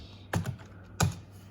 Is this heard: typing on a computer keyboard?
yes